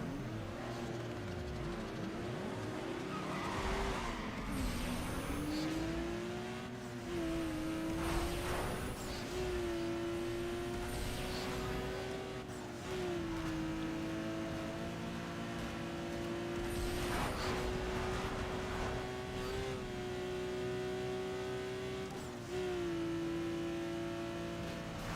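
Race cars roar through Need for Speed Underground 2, one engine's steady high drone rising and dipping with gear shifts, with occasional whooshes of passing traffic and brief tire noise, continuous and loud throughout.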